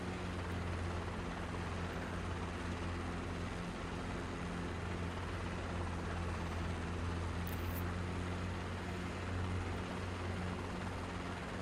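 A helicopter's engine and rotor in flight give a loud, continuous drone and thrum that holds steady for the whole stretch, with no talking over it.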